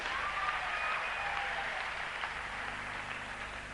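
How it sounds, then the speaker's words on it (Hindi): Festival audience breaking into loud, sustained applause for a Hindi-language host, a dense wash of clapping hands that holds steady for several seconds and fades only slightly toward the end. "एक बार जोरदार तालियां आप बजा दीजिए"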